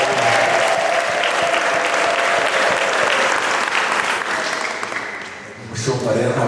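A church congregation applauds in praise of God with loud, sustained clapping that thins briefly near the end before surging again, with some voices mixed into the crowd noise.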